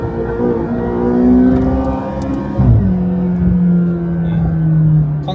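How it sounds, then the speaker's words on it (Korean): McLaren supercar exhaust revving inside a short tunnel of about 30 metres: a loud, echoing engine drone that climbs, drops sharply, then settles into a steady higher roar, close and continuous. "배기음 한번 들을까요?"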